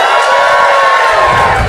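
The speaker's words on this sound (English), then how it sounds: "give us a cheer if you've ever heard the podcast before" A live podcast audience cheers and whoops loudly in a sustained crowd roar, with high excited voices mixed in throughout.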